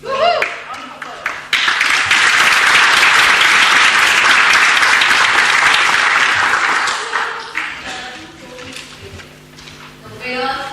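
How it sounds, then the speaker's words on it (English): Loud round of applause from the audience at a Toastmasters tall tales contest, swelling quickly and holding steady for several seconds before tapering off, with faint voices and cheers near the end. "Round of applause."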